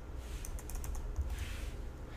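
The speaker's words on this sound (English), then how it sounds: "I'm going to type in CSC and then /help," Quick, irregular clicks of fingers typing on a computer keyboard, close and fairly quiet, with a slightly louder keystroke near the middle and no talk.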